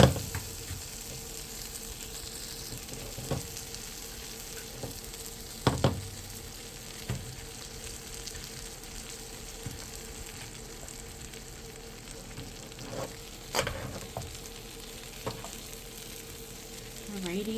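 Soy chunks and onions fry in a pan over very low heat, a soft steady sizzle running throughout with a few louder clatters and pops of stirring scattered across it.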